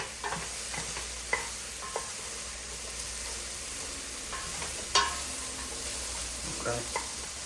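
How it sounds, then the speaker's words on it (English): Broccoli and onions sautéing in a pan for broccoli cheddar soup, a quiet steady sizzle with occasional clinks and scrapes of a utensil stirring against the pan. "I like to just saute the broccoli and the onions and everything together"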